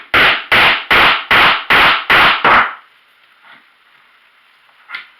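A mallet strikes a ram seven times in steady succession, packing clay into a plug for a pyrotechnic device, each blow a loud close wooden thud, followed by quiet shuffling and one faint knock.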